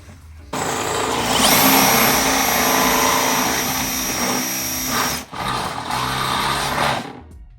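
A power drill bores holes for air bag suspension on an electric golf cart, a loud, steady motor whine running for about six seconds with a brief dip near the end.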